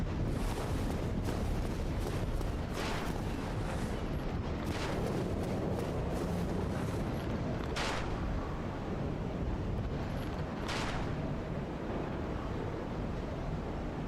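Sharp gunshot bangs ring out at irregular intervals, about five in all, in the video game Dark Souls Remastered, over a constant rushing background noise. No one speaks.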